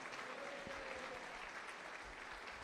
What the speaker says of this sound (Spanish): Fuerte, fuerte, fuerte, fuerte el aplauso.